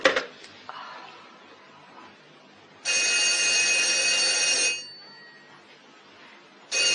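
A telephone bell rings in two clear bursts, a long ring of about two seconds followed after a pause by the start of another, loud and close in a quiet indoor room.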